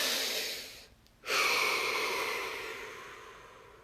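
A single slow, deep breath is drawn in, followed by a long, soft exhale that fades gradually, close and quiet with no talking.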